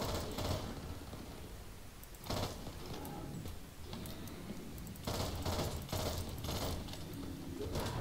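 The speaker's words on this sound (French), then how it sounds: "Ouais, mais j'ai pas un flingue, je te rappelle que j'ai un Tech 9, moi." Tec-9 submachine gun firing in bursts in the zombie shooter Back 4 Blood: several short, sharp bursts of gunfire spaced a few seconds apart over steady game noise.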